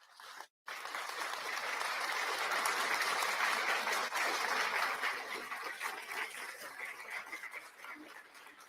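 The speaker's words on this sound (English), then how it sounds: "I'm going to give her a massive round of applause." A studio round of applause on a lunchtime radio show, a brief cut then a full, steady wash of clapping that continues for several seconds and eases slightly toward the end.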